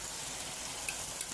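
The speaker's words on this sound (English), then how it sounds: "So we'll add all our eggplants in it." Eggplant pieces sizzle and hiss steadily in a hot pan during a curry's cooking, with faint scraping from stirring. The frying is close and continuous, and nobody speaks.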